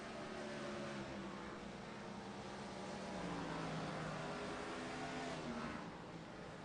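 Onboard audio from Mark Kincaid's race car in the Old Glory Gen 4 Series: a steady engine drone that rises and falls faintly as the car lifts and coasts, with no talking.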